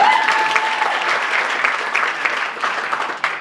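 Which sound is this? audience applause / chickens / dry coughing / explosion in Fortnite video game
audience applause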